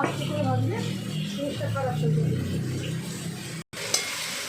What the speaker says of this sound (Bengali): এটাও ভাজবো পটলটাও ভাজবো দুটো একসাথে দুটো একসাথে ভাজবো